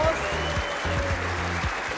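Audience applause at a German roast battle comedy event: a wash of clapping from the crowd runs throughout, with a rhythmic, tonal low backing, likely music or voices, pulsing beneath it.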